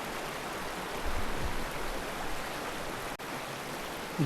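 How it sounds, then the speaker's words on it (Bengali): Fast-flowing water of the Karotoa river rushes in a steady, loud, dense wash from start to finish, with no other sounds breaking through. "জলের টলফল শব্দটা এতটাই বেশি এখানে, অন্য কোনো কিছু শব্দ শোনাই যাচ্ছে না"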